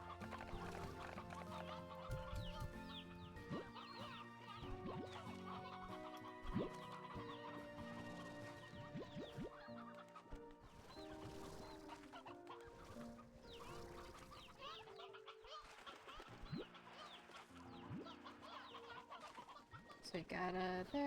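Sea hens, a farm fowl in the game Slime Rancher 2, cluck repeatedly over a busy background of game music and effects, with someone talking at times.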